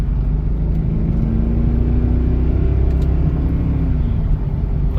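A Mercedes CLK63 AMG with the M156 6.3-litre engine idles with bad motor mounts, giving a loud, steady low rumble and drone throughout with a slight rising tone near the end.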